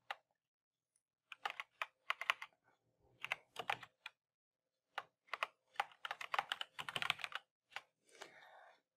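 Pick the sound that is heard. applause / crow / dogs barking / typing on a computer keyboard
typing on a computer keyboard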